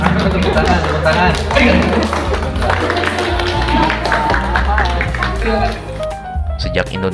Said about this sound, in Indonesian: Tepuk tangannya mana? Tepuk tangan.